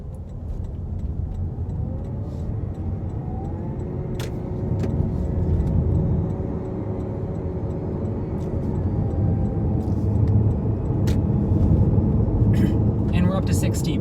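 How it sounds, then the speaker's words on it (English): Car engine and road noise build steadily from inside a Toyota Mirai hydrogen fuel-cell car accelerating onto a highway to 60 mph, a rising hum with occasional rattles and clicks throughout. "Car's got excellent acceleration."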